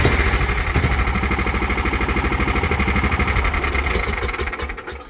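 A warmed-up Kawasaki Mule utility vehicle engine runs close by with a fast, even putter that holds steady before tapering off at the end, no talk.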